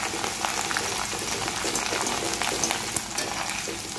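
Chopped garlic and ginger with green chilli sautéing in a pan for an okra masala roast, a steady hissing sizzle that runs unbroken at moderate loudness, close by, with no voices.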